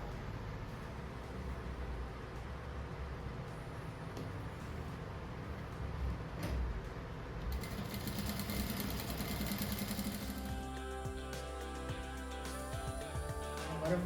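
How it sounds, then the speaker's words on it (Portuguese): A sewing machine stitches fabric strips together for a striped rug, its steady mechanical whir running continuously and growing busier and louder toward the end, with no talk. "vou costurar assim, depois vou costurar aqui no meio"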